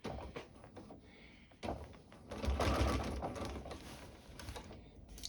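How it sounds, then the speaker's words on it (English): A sewing machine stitches around the hem of a sun dress, running with a close, steady mechanical whir and clatter that swells in the middle, along with light handling noises. "I'm going to sew all the way around until I get back to where I started."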